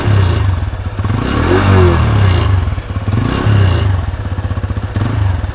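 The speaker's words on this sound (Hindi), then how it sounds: "यहाँ इंजन साउंड भी इसमें ज़्यादा है और ये एग्जॉस्ट की साउंड भी अलग है।" A TVS Apache RTR 160 2V motorcycle revs hard and close, its engine rising and falling in repeated swells over a steady low exhaust burble, alone with no talk.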